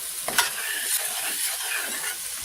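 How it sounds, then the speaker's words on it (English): Seasonings and bouillon sizzle in a hot pan for Spanish rice while being stirred around, a close, steady hiss with a few light utensil scrapes. "And then just get all those seasonings going around."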